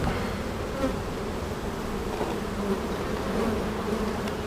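Honeybees buzz steadily inside an open hive during an inspection, a dense, continuous drone of many insects close by with no voices over it.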